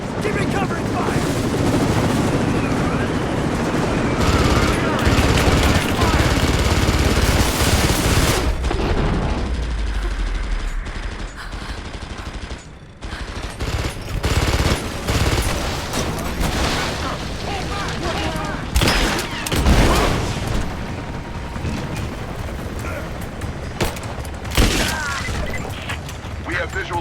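Dense gunfire from the action game Rise of the Tomb Raider rattles almost continuously with booming bursts and short gaps, while voices shout over the battle.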